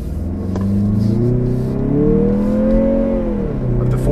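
A 2023 Mazda CX-50 accelerating on a motorsports race track, engine note rising steadily in pitch over a few seconds, loud and close from inside the car, then easing slightly at the end.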